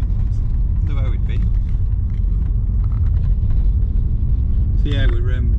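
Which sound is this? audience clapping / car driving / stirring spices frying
car driving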